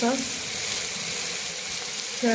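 Vegetables for chow mein sizzle and crackle steadily in a hot wok, a close, even hiss with brief voice fragments at the edges.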